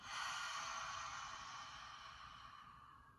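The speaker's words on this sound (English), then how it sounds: "Open your mouth, exhale." Steady breathy exhale through an open mouth during a yoga breathing exercise at home, a single long airy breath that starts strong and slowly fades over about three seconds.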